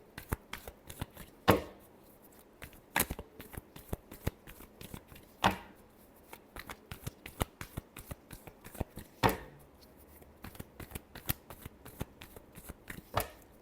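Tarot cards are shuffled by hand close up, giving a long series of crisp riffling bursts and slaps in a fairly regular rhythm, with no talk over them.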